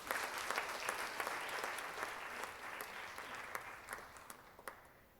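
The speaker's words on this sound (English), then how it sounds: "Can we get another round of applause?" Applause fills the room after a Kathak dance performance, a dense crowd clapping that starts strong, thins gradually toward the end, and leaves a few distinct late claps.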